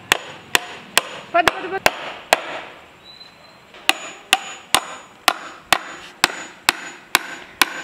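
Hammer driving a nail into a wooden garden table in a steady run of loud, sharp strikes about half a second apart, with a short pause partway through and one brief spoken word.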